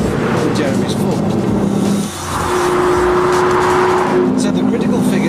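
A Pagani Zonda with a 7.3-litre Mercedes V12 drives past loud and close, a steady engine roar that dips briefly, then climbs back with a sustained revving tone while someone talks over it.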